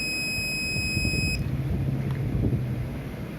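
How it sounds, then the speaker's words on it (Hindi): A multimeter in continuity mode beeps while probing a white SMD fuse on a laptop board: a steady, clear electronic tone holds for about a second and a half, then cuts off, leaving low background hum. "यहाँ पे आपको बीप साउंड मिल रहा है।"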